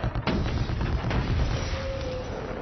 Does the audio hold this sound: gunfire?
yes